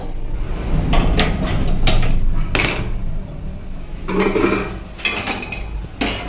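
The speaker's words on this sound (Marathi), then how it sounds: "आता आपण कढई ठेवूया गॅसवर." A metal kadhai set on a gas stove: several sharp clanks and knocks of metal on metal, close and fairly loud, spread across a few seconds with brief rattles in between.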